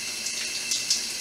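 Shower water runs steadily and continuously, a close hissing spray with small splashes, and no voices.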